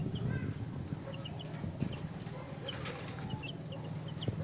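Young chicks, plump and growing fast, cluck and chirp in short scattered bursts under a steady farmyard din, with occasional soft wing-flapping nearby.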